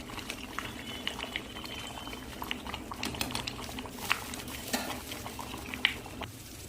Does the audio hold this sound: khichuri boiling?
yes